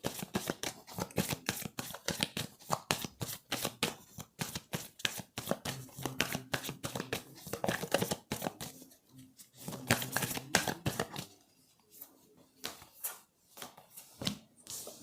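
Tarot cards shuffled by hand for a reading, a steady run of rapid crisp riffles and slaps lasting throughout, close and fairly loud, with no talking over them.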